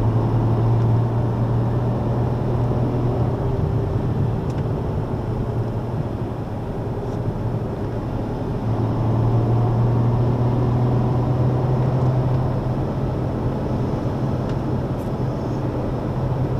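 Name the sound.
Ferrari F12 Berlinetta engine accelerating on Magny-Cours circuit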